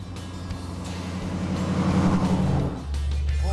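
A '49 GMC rod truck with a warmed-up LS1 engine gives a deep, steady, loud rumble that swells slightly, then settles into a lower throb near the end.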